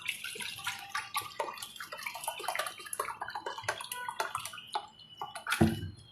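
Water is poured into semolina while making vegetable upma, giving a few seconds of close splashing and dripping that ends with a short, louder gurgle.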